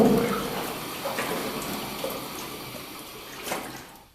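Underground water flowing steadily through a network of limestone tunnels, a continuous close wash of running water heard alone.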